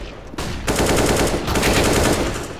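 Rapid automatic gunfire bursts in a Counter-Strike: Global Offensive match, dense and loud, starting after a brief quiet lead-in and continuing as a sustained rattling volley.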